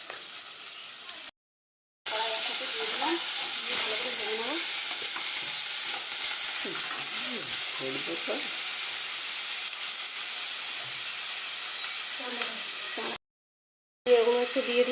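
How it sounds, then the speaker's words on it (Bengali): Masala bitter gourd fries in a pan and is turned over, giving a loud, close, continuous sizzle and hiss with soft stirring scrapes throughout. "উচ্ছেগুলো এভাবে উল্টে পাল্টে ভালো করে ভেজে নিতে হবে"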